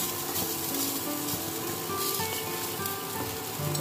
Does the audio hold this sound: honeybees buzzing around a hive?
no